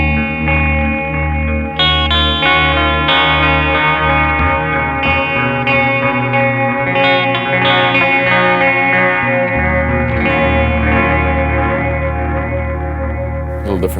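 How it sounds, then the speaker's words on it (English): Guitar played through a Red Witch Titan pedal's Moon phaser with only the wet signal, giving a lush, wavering vibrato-like modulation over sustained chords; steady and loud throughout, with no talking. "the Moon phaser, which means we're actually only hearing the modulated sound, not the original dry sound from the phaser"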